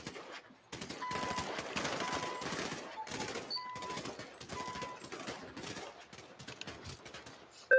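Gunfire laying down cover in a roleplay shooter game, fairly distant and soft, with rapid bursts of shots continuing for several seconds in clustered volleys.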